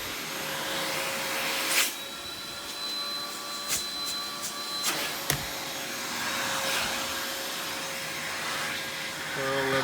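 An Aerus Lux (Electrolux) Guardian upright vacuum cleaner runs steadily with a whining motor drone, punctuated by a few brief clunks and knocks, with no talk.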